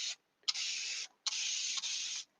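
A fine-mist spray bottle lets out three soft hissing bursts, a short one and then two longer sprays of about half a second and a second each, close by and fairly quiet with silence in between.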